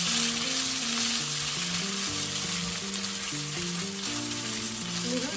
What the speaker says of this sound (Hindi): तेल गरम हो गया, अभी हम नूडल्स डाल देते हैं।